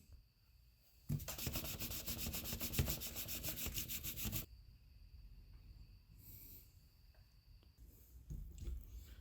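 Fine 1000-grit sandpaper rubs back and forth across the metal surface of an Elsinore fuel valve, a rapid, rhythmic scratching burst of about three seconds, then quieter intermittent scuffs and handling noises.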